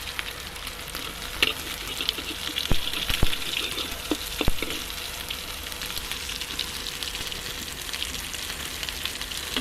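Hilsa fish sizzles steadily in oil in a clay pot over a fire, a soft continuous crackle broken by a few sharp clinks and stirring knocks midway, with no voices.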